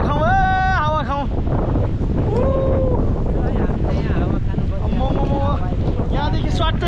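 Strong wind buffets the microphone on a hilltop ridge in Nepal, a loud, continuous low roar and rumble while people talk and call out over it.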